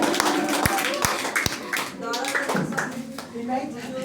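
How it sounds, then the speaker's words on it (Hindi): A handful of students clap unevenly, with a few sharp distinct claps among scattered children's chatter and voices in a busy coaching-class room in India. "इनके लिए भी ताली मारिए, जोरदार ताली मारिए"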